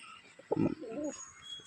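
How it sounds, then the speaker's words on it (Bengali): Two adult male Giribaz pigeons, one red-veined and one flower-veined, give a soft, low, throaty coo that swells once and trails into a second warbling phrase, close by and alone over faint background hiss. "দুটো ধাড়ি পায়রা আমার বাড়ির।"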